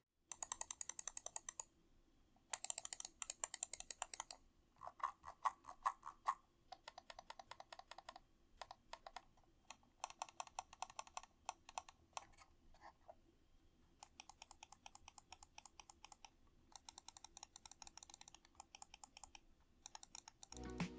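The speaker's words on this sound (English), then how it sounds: "The side buttons feel great and sound pretty good and have basically no pre and post travel as well." Small rapid clicks in bursts from the side buttons of a Razer gaming mouse, quiet and crisp, with short pauses between clusters of taps and no talking.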